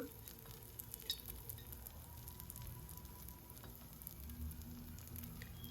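White kuzhi paniyaram frying in a pan give off a soft, steady sizzle with faint crackles throughout, fairly quiet and with no talking.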